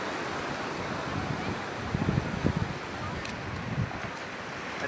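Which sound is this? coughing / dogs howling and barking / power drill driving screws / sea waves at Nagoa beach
sea waves at Nagoa beach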